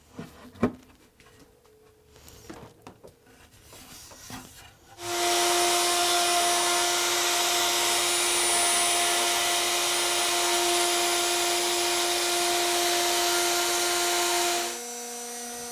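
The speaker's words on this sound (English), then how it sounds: "I'm going to use a router with a straight bit and an edge guide" A router fitted with a straight bit and an edge guide cuts grooves into an ash wood frame, a loud steady high whine starting after a few seconds of quieter workshop handling noise and winding down near the end.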